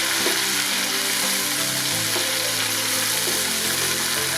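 Beef keema karahi with tomatoes, red chili, salt and turmeric sizzles loudly and steadily in a hot pan, a dense continuous fry with faint stirring, no voices.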